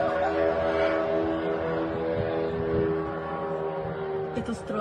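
Ukrainian attack drone flying overhead near a burning refinery at night, a steady droning engine note with layered harmonics holding for several seconds, fairly loud and continuous, with faint background noise.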